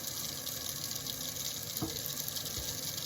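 Tap water runs through a Brita faucet-mount charcoal filter system, giving a steady, close, even hiss of flowing water with no talking.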